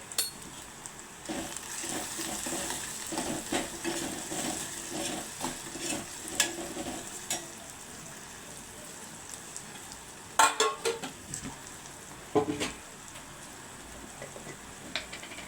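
Onions frying in a pan with ginger garlic paste for egg pulusu, a steady sizzle beneath repeated scraping and clinking strokes of a spatula, with louder bursts of stirring near the end, close and continuous.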